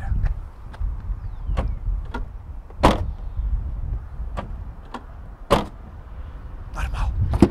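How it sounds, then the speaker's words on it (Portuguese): Rear door of a Hyundai Kauai 1.0 Turbo shut outdoors on a street: several sharp, solid thuds at irregular intervals over a low background rumble, no talk. "Vou começar aqui pela porta traseira."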